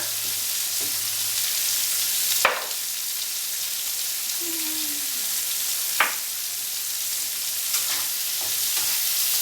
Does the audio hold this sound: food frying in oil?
yes